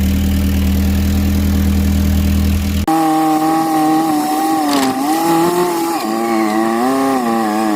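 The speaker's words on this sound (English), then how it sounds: "I'm going to get the forklift." A forklift engine runs close and loud, a steady droning motor that shifts to a higher, wavering revving tone partway through, with no talk over it.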